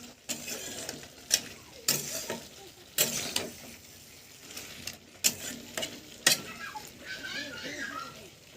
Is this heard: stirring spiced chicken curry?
yes